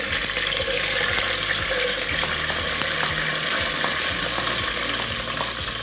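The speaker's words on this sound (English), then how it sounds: "It's a little bit hot, so we're going to put in our onions." Two diced onions tossed into hot oil for a bean curry, giving a steady loud sizzle with a hiss like running water and scattered clicks of stirring throughout.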